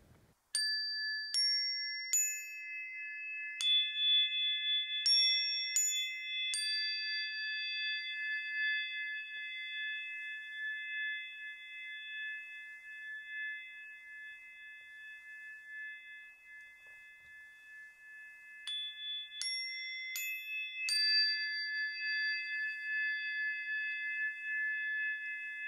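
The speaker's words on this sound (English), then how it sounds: "Did I mention these chimes have an insanely long sustain?" Elfen Harmonics Chakra energy chimes struck one after another in a bright ascending run, each pure metallic tone ringing with very long sustain and slowly fading, then a second run of strikes near the end, with no talking.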